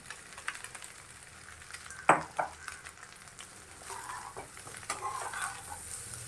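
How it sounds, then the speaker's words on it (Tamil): Cooked rice being stirred into fried egg and onion in a pan, a low continuous sizzle with soft scraping and one sharp clink of utensil on metal near the middle, close and moderately quiet, no talking. "இதை நல்லா கிளறி விட்டுடலாம்"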